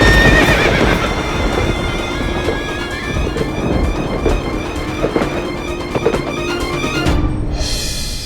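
A horse clip-clops steadily at close range and gives a loud whinny near the start, with a dense, busy backdrop throughout that ends in a brief burst of broadband noise.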